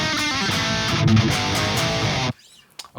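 Heavy distorted electric guitar played through a 5153 Stealth amp capture into a Road King cabinet, a thick, loud, continuous riff with chugging lows that stops abruptly near the end, leaving faint residual noise.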